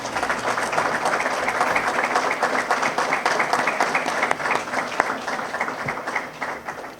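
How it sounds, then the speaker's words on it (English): A graduation crowd at a training and certification ceremony applauds vigorously, dense rhythmic clapping that holds steady and tapers slightly toward the end. "they deserve a round of applause"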